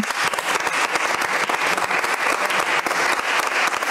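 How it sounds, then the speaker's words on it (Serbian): Studio audience applauding on a national television talk show, a dense, steady wash of many hands clapping at even loudness throughout, with no voices over it. "Ma dajte jedan aplauz ako Boga znate."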